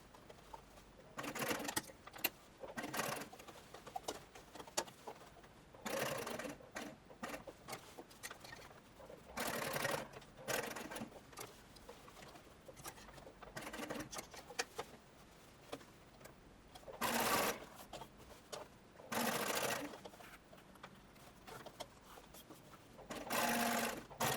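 A domestic sewing machine top-stitches a dress cuff in several separate bursts of steady, fast stitching, with quiet pauses in between while the fabric is adjusted. Small handling clicks fall between the runs, and no one speaks.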